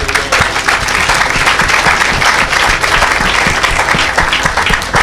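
A church audience at a French-language worship service claps steadily and loudly to acclaim Jesus, dense continuous applause with a few cheers mixed in, with no talking.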